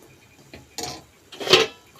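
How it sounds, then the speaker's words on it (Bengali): A spatula dipping fried semolina chomchom sweets into sugar syrup in a pan, giving two brief metallic clinks and scrapes against the vessel, close by with quiet gaps between. "খুন্তি করে এইভাবে রসের মধ্যে ডুবিয়ে দেব।"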